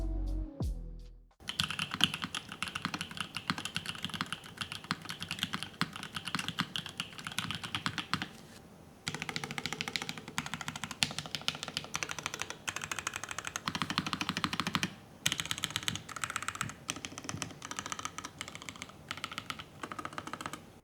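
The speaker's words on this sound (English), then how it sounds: "It is a top mount / burger mount keyboard, so I'm very interested to see how it will sound and feel." Rapid, continuous clacking keystrokes on an aluminum top-mount (burger mount) mechanical keyboard, stiff and loud, in a steady dense stream with a few brief pauses, recorded up close.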